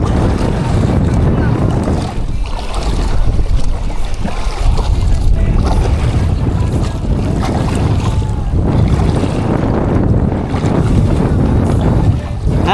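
Strong wind buffets a fishing boat at sea, a steady loud roar with wind noise across the microphone, while people talk and exclaim throughout.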